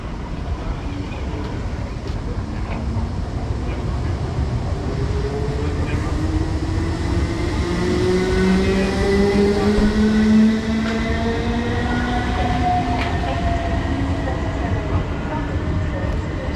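A Class 455 electric train pulls out of East Croydon station, its rising traction motor tones sweeping upward over a steady rumble of wheels and rail noise that holds loud and close throughout.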